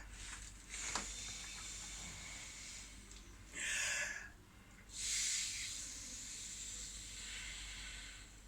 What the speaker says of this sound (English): take a deep breath for yourself, and then expel it into the lungs